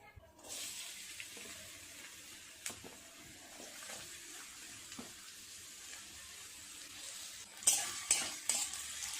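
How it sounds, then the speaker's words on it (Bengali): Chopped onions tipped into hot oil in a wok, giving a steady close sizzle with a few louder bursts and clatters near the end. "কড়াইটা চাপিয়ে দিই, তেল গরম হয়ে গেছে, দিয়ে দেব পেঁয়াজ কুচি।"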